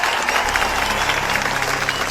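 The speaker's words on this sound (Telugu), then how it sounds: "చప్పట్లు చప్పట్లు" A crowd claps in a comedy scene from the Telugu film Bengal Tiger, with dense, steady applause throughout the short stretch and a faint murmur of voices underneath.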